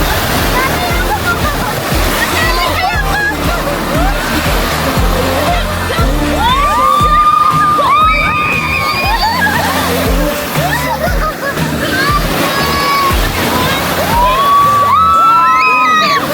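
Ocean waves splash and wash along a beach in Kiama, NSW, a steady loud surf roar under close conversational talk in Filipino and English among friends camping, with bursts of chatter throughout.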